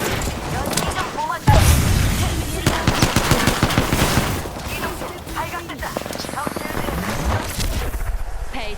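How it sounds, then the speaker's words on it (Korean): Gunfire in Apex Legends: loud, dense automatic weapon bursts and rapid shots that run almost continuously, with in-game voices and effects mixed in. "적에게 사격 개시."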